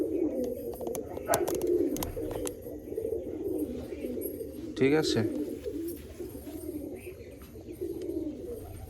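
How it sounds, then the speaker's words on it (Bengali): A pigeon offered for sale near Baruipur coos in low, rolling phrases close by, while someone talks over it and wings flutter briefly. "এই একটা পায়রা দেখুন"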